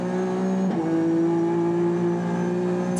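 A 1995 JGTC race car engine at Suzuka accelerates hard, its loud sustained drone rising in pitch through a gear change, with a steady harmonic whine running close and continuous throughout.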